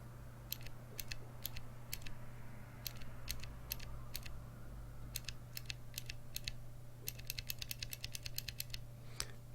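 Mechanical keyboard with MX blue switches typed on in short clicky bursts of sharp, crisp keystrokes, near and distinct over a steady low electrical hum, with brief gaps between runs.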